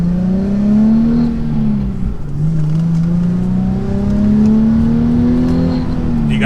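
A Nissan 370Z accelerates hard from inside the car, its engine note droning loud and close as it rises through the revs, dips briefly at a gear change, then climbs steadily again.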